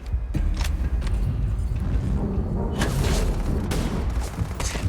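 Grenade explosion in the video game Starfield, a loud booming blast amid sustained combat noise and gunfire bursts, close and dense with no speech.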